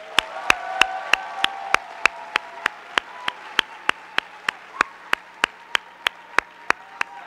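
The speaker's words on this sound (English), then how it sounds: "let's give each other a round of applause." An audience at an official government meeting applauds. Sharp, evenly spaced claps stand out at a steady beat above a softer wash of clapping, holding at a moderate level throughout.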